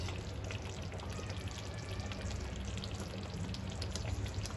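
Spinach chicken cooking in a pot sizzles and splatters steadily, a dense, even crackle of hot oil and liquid running throughout, close and constant, with no talking.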